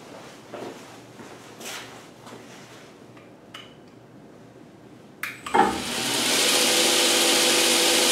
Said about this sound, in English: So I got a 120 grit belt on here. Just gonna make a few passes.